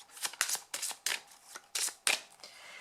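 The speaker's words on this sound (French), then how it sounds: "je vais vous tirer la carte du prochain signe" Tarot cards are shuffled and drawn by hand in a quiet room, with several quick riffling bursts and soft card slaps in an uneven rhythm, close and fairly soft.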